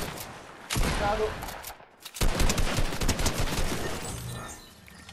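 Fortnite gunfire rattles in dense bursts, one sustained volley, a brief gap, then a longer flurry of rapid shots fading out, while a player speaks briefly.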